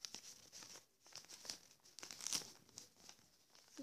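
Sheet of paper being folded into a paper boat, with soft crinkling and crisp creasing rustles spread through the stretch, fairly close and quiet, no talking.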